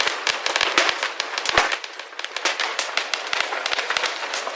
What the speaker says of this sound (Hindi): पीछे से स्काई शॉट्स दिख रहा है, स्काई शॉट्स और में इतने सारे पटाखे फूट रहे, इतने सारे।